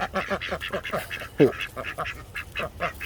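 Ducks quacking loudly and close by in a food forest, rapid repeated nasal calls in a quick rhythm, with a person's voice talking partly over them.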